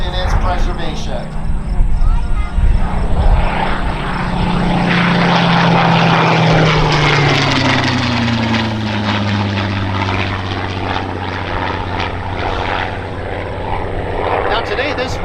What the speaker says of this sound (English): Now today this Spitfire stands as a testament to the technological